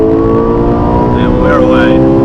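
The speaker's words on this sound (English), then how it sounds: "I put my foot to the floor, straight into 4th," A Ferrari with an automatic gearbox, cruising at 60 mph, kicks down into fourth under full throttle: a loud, close engine roar that climbs sharply in pitch as it accelerates.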